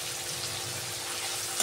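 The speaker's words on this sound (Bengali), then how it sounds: "এবার এইভাবে আমি কষাতে থাকি।" Spice mix with chopped tomato frying in a pan for mutton curry, a soft, steady sizzle with faint stirring scrapes, brief and fairly quiet.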